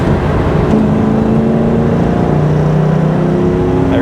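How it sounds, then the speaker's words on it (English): A 1997 Ford Mustang Cobra pulls hard in third gear, its engine note climbing steadily in pitch from inside the cabin, loud and continuous with a droning whine under it and no talking. "we'll do a little third gear pull here"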